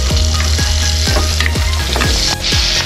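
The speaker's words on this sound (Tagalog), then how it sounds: "Ilagay ang sibuyas." Onions hit hot oil for an ampalaya and sotanghon dish, giving a loud, steady sizzle with repeated scraping strokes of a spatula against the pan.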